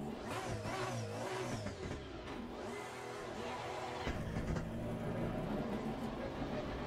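A GT3 race car engine in the video game Assetto Corsa Competizione revs hard and climbs through gears, loud and close, with a brief dip before it surges again.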